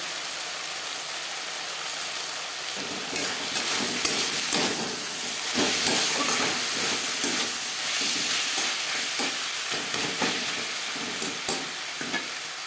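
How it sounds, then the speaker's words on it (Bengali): Onion and tomato frying in a pan for a Bengali-style bhangar fish curry, a steady sizzle with scraping stir strokes and light clatter running continuously, close and moderately loud, with no voices. "দু তিন মিনিট পেঁয়াজ টমেটো ভেজে নেওয়ার পর এতে দিয়ে দেবো"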